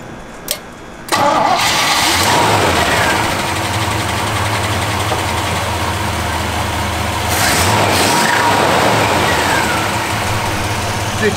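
An old Chevy C10 truck that had sat for decades starts after repairs to its gas tank and exhaust. The engine cranks briefly, catches and settles into a loud, steady idle with a couple of swells in revs.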